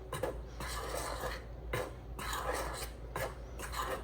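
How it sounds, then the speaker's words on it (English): A spoon or spatula stirs zucchini bread batter in a bowl, giving rhythmic scraping strokes in four or five close, moderately loud passes with short pauses between them, and no talking. "now we're going to give that a nice little stir so that we can make sure all of that gets mixed in"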